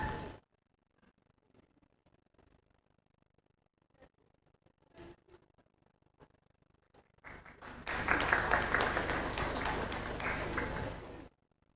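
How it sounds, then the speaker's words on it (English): After a quiet stretch with faint scattered sounds, conference attendees at a regional collaboration session break into a burst of applause for a facilitator that lasts a few seconds, then stops abruptly. "Let's give another round of applause to our facilitator, Ms. Rapatsa Trirat."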